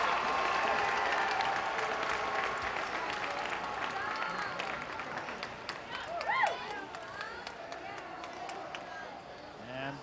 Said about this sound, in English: talking about supporters from every school here applauding Kristen Maloney